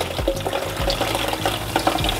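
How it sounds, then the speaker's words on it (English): Water kefir pours and bubbles close by, a busy crackling fizz with splashing, steady throughout. "Can you hear the fizziness?"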